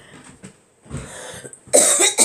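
Coughing from a person in an indoor recording session: a few scattered coughs and throat sounds early on, then a loud burst of harsh, close coughs near the end.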